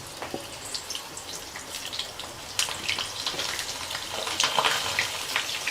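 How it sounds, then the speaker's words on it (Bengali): Potatoes frying in a wok give off a soft, steady crackle and sizzle, with scattered pops growing a little louder toward the end and no voices. "আজকে দেখো আলুটা আবার এদিকে কড়াইয়ে ভেজে নিচ্ছি"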